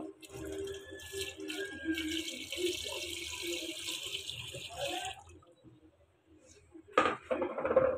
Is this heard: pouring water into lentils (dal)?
yes